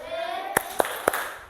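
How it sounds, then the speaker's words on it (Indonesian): A classroom of children claps three sharp, evenly spaced beats in a 'tepuk wow' appreciation routine, each clap crisp and close over a low background murmur. "apresiasi dengan tepuk wow"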